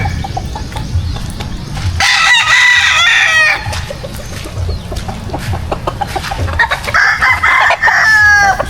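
Chickens on a small Filipino backyard poultry farm, among them White Kelso gamefowl, cluck steadily nearby while roosters crow loudly in bursts, several calls overlapping in a busy, continuous barnyard chorus.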